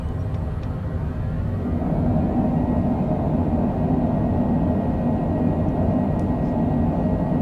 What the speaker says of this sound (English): spoilers up. Reversers on.